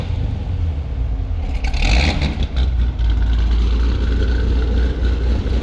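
A 500 hp LS V8 swapped into a Mazda Miata gives a loud, deep, rumbling idle that swells into a couple of revs, heard close with no talk.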